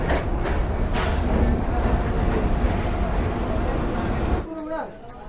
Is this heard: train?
yes